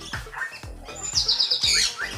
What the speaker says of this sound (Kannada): ಇದು ಕಲರ್ ಗಿಳಿ ಇದೆ ನೋಡಿ ಇಲ್ಲಿ.